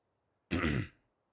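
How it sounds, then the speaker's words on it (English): A single harsh throat clearing with a short coughing burst from someone under the weather with sinus trouble, close and fairly loud, lasting about half a second in otherwise quiet surroundings. "I'm coughing nonstop"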